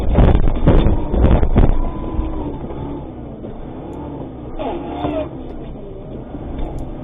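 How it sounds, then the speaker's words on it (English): A vehicle engine runs steadily in the background, a low continuous rumble with wind buffeting the microphone, louder bursts of noise at the start and a faint tonal whine later on. "there's not a lot to hear except the background of the engine and the pops of the bullets hitting the van"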